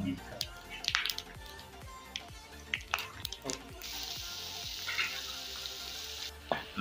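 Whole spices such as cloves, bay leaf, pepper and cinnamon crackle while tempering in hot oil for chicken do pyaza, with sharp repeated pops over a steady sizzle as a voice talks throughout.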